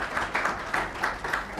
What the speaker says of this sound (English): Then an even bigger round of applause for you, the audience